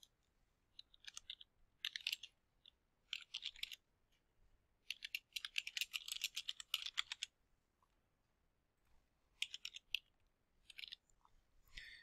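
Typing on a computer keyboard to enter a title and creator into a catalogue record, quick bursts of crisp close key clicks separated by short pauses.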